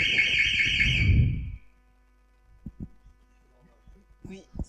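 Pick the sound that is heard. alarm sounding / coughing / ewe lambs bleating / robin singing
alarm sounding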